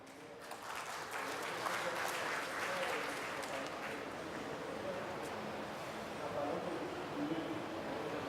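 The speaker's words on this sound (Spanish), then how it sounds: "recibamos con un aplauso a Josefina" Steady audience applause filling a hall at a mining and metalworking trade fair, sustained and even throughout as an audience welcomes a speaker to the stage.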